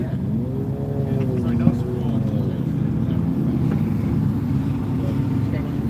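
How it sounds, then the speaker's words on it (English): A V10 engine in a pickup truck idles with a steady low rumble, close and constant, with wind buffeting and people talking over it at a speed event. "V10 tucked in a truck engine bay."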